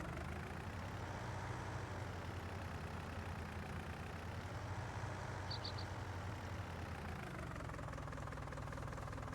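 Low, steady rumble of a tractor engine idling with a trailer attached in Farming Simulator 19, faint and continuous with little change in pitch.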